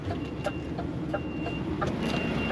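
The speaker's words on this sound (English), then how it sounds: "I'm just reversing it into a nicer area" A UK lorry backing up on a rough, rocky site gives off steady, evenly spaced reversing beeps over a constant low engine rumble.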